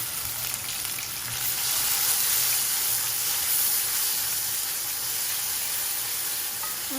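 Grated onion, added after finely chopped ginger, fries in hot oil for a fish curry, giving a steady, close, broadband sizzle that swells slightly midway and holds without talk.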